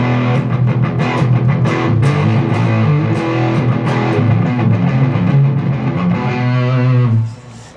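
A Wampler Slostortion pedal on its overdrive setting drives an electric guitar through a steady run of loud, crunchy chords and riffs. They ring out for about seven seconds, then cut off abruptly, with no talking.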